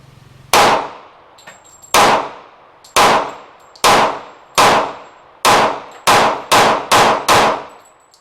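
A Taurus PT145 pistol fires Freedom Munitions ammunition at a range: ten sharp, loud shots, spaced about a second apart at first, then quickening into a faster string at the end.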